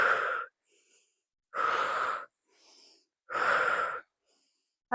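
Three long, audible breaths drawn in and pushed out at an even pace, each lasting about a second, close and clear with silence between, from someone working through a floor ab and core-strengthening exercise.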